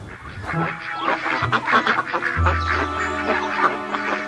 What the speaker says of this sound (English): A duckling popped out of Donald's tank at the first water stop